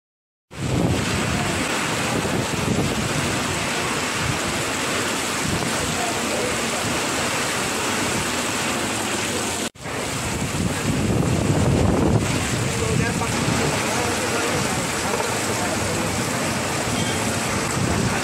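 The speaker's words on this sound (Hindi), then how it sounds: "झमाझम बारिश" Heavy rain pouring down in Darbhanga, a dense steady roar of hiss and rumble, loud and continuous with a brief break partway through, no talk.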